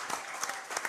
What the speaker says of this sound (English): How about a round of applause for Coach Don Drake?